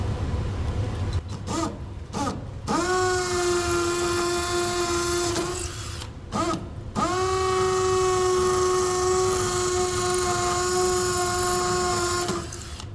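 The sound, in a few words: power drill drilling pilot hole into wall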